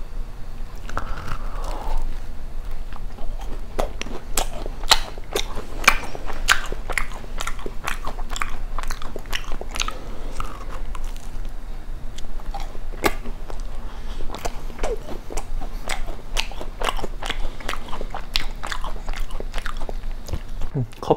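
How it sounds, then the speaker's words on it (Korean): Someone bites and chews thick-filled macarons and dacquoise bought from a neighbourhood macaron shop, with close, crisp crunches repeating in a steady rhythm over soft mouth sounds. "오늘은 동네 마카롱 집에서 사온 뚱카롱과 다쿠아즈를 먹어볼게요."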